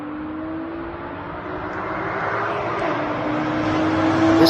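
A BMW 650i V8 twin turbo and a Nissan G37 street racing side by side, a rising engine roar that builds steadily louder as the cars accelerate toward the finish.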